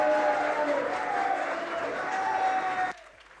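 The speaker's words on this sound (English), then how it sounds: "Thanks for all the clapping." Audience applause fills a stage at a Brazilian games showcase event, steady dense clapping for about three seconds before it cuts off abruptly into near silence.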